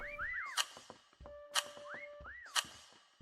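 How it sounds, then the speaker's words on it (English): Repeated rising-and-falling whistled notes, each phrase followed by a sharp burst, sound in three evenly spaced cycles, fairly close and alone in a large space. "Keep whistling."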